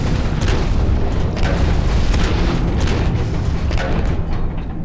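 Rocket explosions hit a player's mech in the Hawken multiplayer game, a loud, continuous barrage of booming blasts and crackling impacts that stays dense and heavy throughout.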